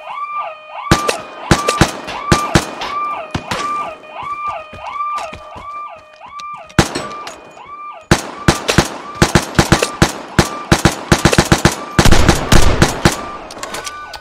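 Loud, close bursts of rapid gunfire crack repeatedly in the Vigor video game, sharp shots clustered in quick volleys, while a warbling alarm-like tone pulses during the first several seconds.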